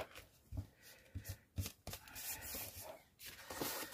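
Scissors snip off a small piece while an envelope is being sewn: a few sharp, close cuts spaced by short pauses, with soft rubbing and handling noise between them and no talking.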